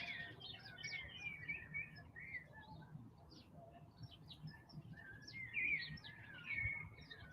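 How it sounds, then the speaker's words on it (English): Birds chirp and twitter steadily in the background outdoors in Mexico, faint and somewhat distant, over a low ambient rumble. "Love the birds in the background."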